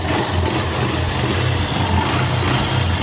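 A Honda CB125 motorcycle engine with a standard Makoto piston kit runs steadily up close, a loud, continuous low rumble with a noisy, smoky character and no talk over it.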